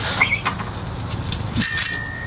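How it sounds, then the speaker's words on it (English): A bicycle bell gives a quick double ring, first faintly and then a louder, clear bright chime near the end over a low background rumble. "At least the bell works."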